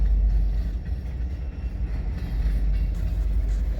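A loaded unit train of grain or corn rolls past at close range in Fremont, Nebraska, a steady loud rumble with faint wheel clatter throughout.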